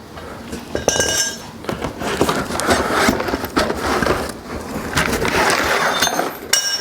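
Metal bolts clink and rattle inside a bag while a Kabuki Strength Kadillac Bar is unboxed, with repeated close handling jingles and rustling across the whole stretch.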